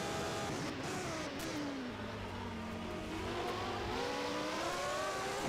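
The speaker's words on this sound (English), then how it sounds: "You can hear that Renault just ahead in Dave Miller's car." Renault Formula One race car engine from a 1991 Monaco Grand Prix racing video game, a steady droning whine rising and falling in pitch as it runs just ahead, continuous and fairly loud with no talk.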